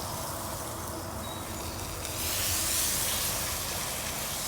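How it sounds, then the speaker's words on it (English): Water steams and hisses on a hot 22-inch Blackstone Adventure Ready griddle during cleaning, a steady broadband sizzle that swells louder about halfway through and holds, with no talking. "You'll see it steam up."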